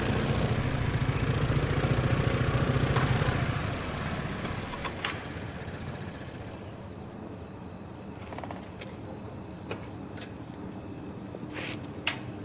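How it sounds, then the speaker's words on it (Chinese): A motorcycle engine idles in a film scene with a steady low rumble at the start. It fades after a few seconds, leaving quieter room sound and a few sharp clicks and knocks. "我听到摩托车声音响"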